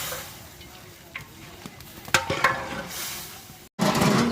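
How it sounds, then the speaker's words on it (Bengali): Biryani cooking in a pot is stirred, with scraping spoon strokes and a soft sizzle of frying, faint at first and growing louder, a brief gap, then steady frying resumes. "এখন নেড়ে চেড়ে দেওয়া হবে"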